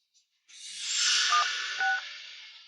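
A telephone number being dialed, a short run of clear electronic keypad tones over a faint hiss, close and alone after a brief quiet start.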